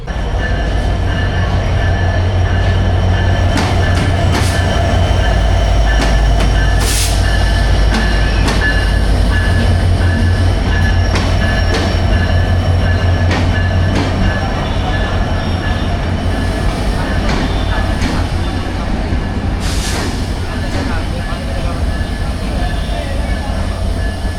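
The Sagardari Express pulls out of Chuadanga railway station toward Khulna, a loud, close, continuous rumble of rolling carriages with wheel clatter and occasional high squeals.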